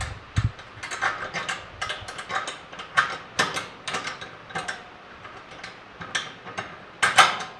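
Metal bolt pushed through Char-Broil Performance 4-burner grill parts during assembly: a close series of irregular rattling, clicking and scraping knocks of metal on metal, with a louder clatter near the end.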